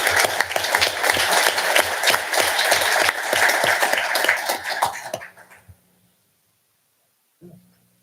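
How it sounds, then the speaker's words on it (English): A room at a state transportation commission meeting bursts into loud, dense applause that carries on for about five seconds, then tapers off into near silence before a brief low sound. "let's give Earl a round of applause"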